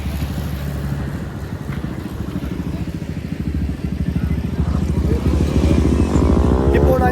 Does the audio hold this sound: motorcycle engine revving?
yes